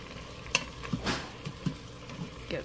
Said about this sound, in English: Get this stirred in.